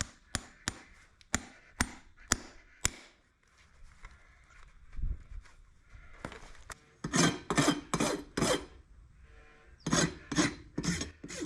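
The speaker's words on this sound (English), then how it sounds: "we're not rasping the foot, we're only rasping the pad back to the shoe" A rasp files down the pad on a horse's hoof back to the shoe. Sharp separate strokes come first, then after a short pause a quick run of grating strokes, close and fairly loud.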